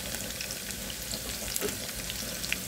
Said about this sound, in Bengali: এই পেঁয়াজটা দিয়ে দিয়েছি। একটু নেড়ে সুন্দর করে কষিয়ে নিচ্ছি।